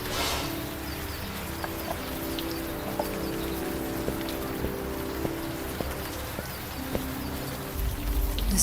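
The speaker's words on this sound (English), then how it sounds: "This friggin' rain." Steady rain falls in the point-and-click adventure game Old Skies, a constant close hiss of drops with faint scattered ticks and no talking.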